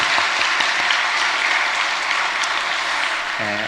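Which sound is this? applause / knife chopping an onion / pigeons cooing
applause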